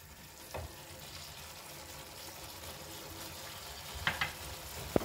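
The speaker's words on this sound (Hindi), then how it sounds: "तो इन सब चीज़ों को अच्छे से मिक्स करेंगे।" A spoon stirs cashew paste into gravy in a pan for Mughlai dum aloo, a soft steady sizzle and faint scraping under a constant background hiss, with a couple of brief clinks near the end.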